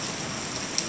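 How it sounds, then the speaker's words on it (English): Heavy pouring rain from Hurricane Michael in Geneva, Alabama: a loud, steady hiss of downpour filling the whole moment, with scattered drops spattering nearby. "kind of pouring down rain we got going on here in Geneva, Alabama"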